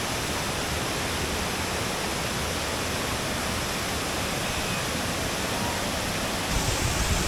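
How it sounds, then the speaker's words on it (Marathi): A steady, dense roar of rushing water from the Savatkada waterfall in Konkan, heard from very close, loud and filling the whole stretch without a break. "तर आपण आता धबधब्याच्या अगदी जवळ आलेलो आहोत."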